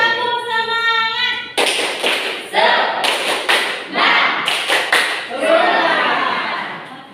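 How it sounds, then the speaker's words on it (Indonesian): A school class in Indonesia does a rhythmic spirit clap, with sharp bursts of group claps and thumps in a patterned beat, mixed with a teacher's voice and children chanting along. "Nah, kita tepuk semangat dulu ya."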